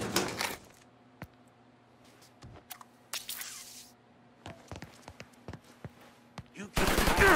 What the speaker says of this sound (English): You can't hide the gunshot.